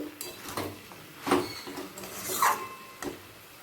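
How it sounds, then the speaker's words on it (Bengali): A vegetable curry (labra) stirred with ghee and garam masala in a pan, giving soft scraping and rubbing strokes of a spoon against the pan, with several louder scrapes in an uneven rhythm, close and alone. "গরম মশলা গুঁড়ো অল্প দিলাম আর একবার ভালো করে মিশিয়ে নিচ্ছি"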